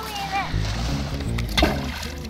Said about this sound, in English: Whoa, that was a pretty good splash.